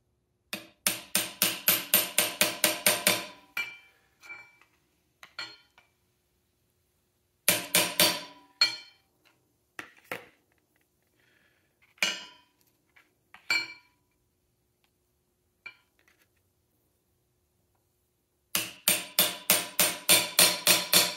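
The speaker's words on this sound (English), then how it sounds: "I'm just going to pound the tap these in with a with my small ball peen hammer." Rapid bursts of light metallic taps from a small ball peen hammer driving in hinge pins on a 1965 Thunderbird convertible rear deck, about a dozen quick blows each, separated by pauses with a few scattered single taps.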